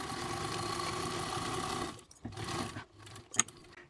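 A sewing machine hums steadily while stitching a 5/8-inch seam on a crescent-shaped bag, then stops and restarts in short bursts near the end.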